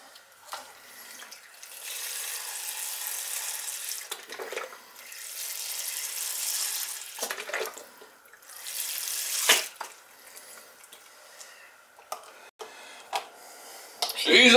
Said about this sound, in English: that's about all the water I want to put in there